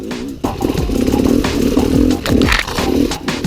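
Enduro motorcycle engine running close up, with loud revving rises and falls in a raspy two-stroke-like buzz, punctuated by clattering, with no talk over it.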